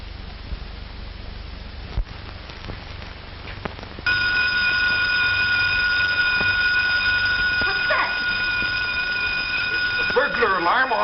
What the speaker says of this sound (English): Burglar alarm on the garage.